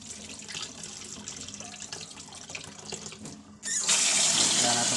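Water runs from a tap during washing, a spattering flow that splashes against items beneath it before surging suddenly into a loud, full gush near the end.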